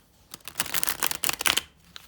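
A second-hand French tarot deck is riffle-shuffled up close. The cards give a quick, dense flutter of papery snaps that lasts about a second and a half and then stops.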